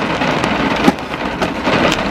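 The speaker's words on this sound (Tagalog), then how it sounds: "Grabe, ang lakas ng ulan." Heavy rain pours down steadily in a dense, loud hiss with scattered sharper drops and a brief thump, close to the microphone, with no talk.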